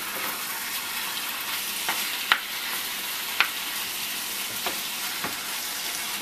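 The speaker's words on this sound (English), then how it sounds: "while my tomatoes are cooking" Tomatoes for cashew chicken cook in a pan with a soft, steady sizzle, broken by a few sharp pops and spatters.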